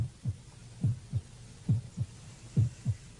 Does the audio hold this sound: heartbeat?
yes